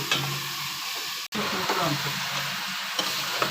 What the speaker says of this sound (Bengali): আদা দিয়ে পেঁয়াজ রসুন কষাইতে আছে, জাম দিয়ে তেল দিয়ে।